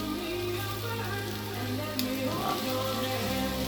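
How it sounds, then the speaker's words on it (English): Beef burgers sizzling on a BBQ grill plate, a steady close hiss and crackle of frying running throughout, with a brief sharp click partway through and no talk over it. "Fry the burgers up a little bit more."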